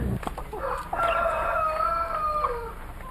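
A hen clucks and gives a drawn-out, wavering cackle at close range, loud and clear over a faint noisy background.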